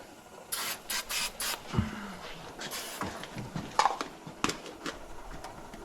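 Undercoating sprayed onto the shiny wheel hub surfaces of a 2002 Chevrolet Trailblazer during a front wheel bearing job: several short hissing spray bursts close by, followed by faint clicks and shop handling noises.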